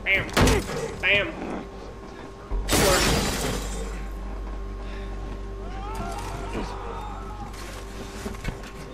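Glass shatters in the video game The Last of Us Part 1. A single loud, bright crash bursts out after a few seconds of talking and fades into quieter background ambience.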